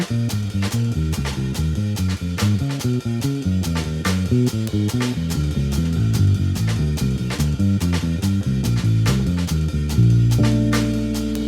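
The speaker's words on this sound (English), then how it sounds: "Okay, it's going to sound like this in context." Walking bass line on a bass guitar with harmonic voice leading, steady plucked quarter notes moving through changes inside a full backing with drums and chords, playing continuously with no talking.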